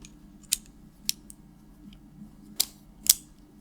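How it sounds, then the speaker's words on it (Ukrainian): Small metallic clicks from tightening the standard screw that fixes an action camera to a tactical helmet mount, four or five sharp isolated ticks spaced irregularly, close and crisp against near silence. "Закручуємо."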